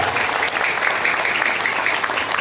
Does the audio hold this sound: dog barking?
no